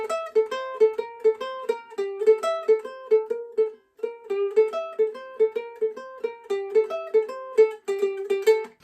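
Close, solo ukulele picks out a fast riff, repeated plucked notes with a short pause near the middle, then carries on in the same pulse.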